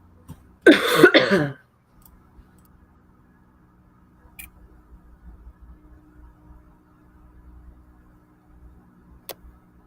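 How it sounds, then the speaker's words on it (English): A single burst of coughing, close and fairly loud, followed by a quiet room with faint ticks and low background rumble. "Cough, cough, cough."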